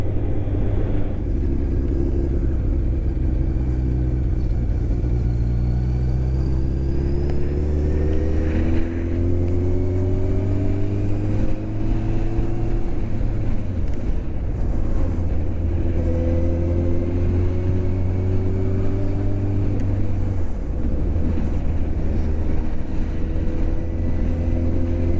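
A motorcycle engine rumbles loudly and continuously, its pitch sliding down repeatedly as it slows under engine braking, with steady wind and road noise.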